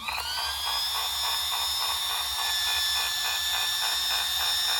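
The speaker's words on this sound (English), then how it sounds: "This is gonna be loud, guys. The fan's gonna come on" A cooling fan on a Traxxas Rally RC car spins up and whirs loudly and steadily, with a high-pitched whine over a rushing airflow.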